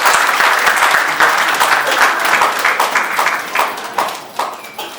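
Audience applause at a radio charity trophy presentation for ambassadors, dense clapping that gradually thins into scattered, uneven claps near the end.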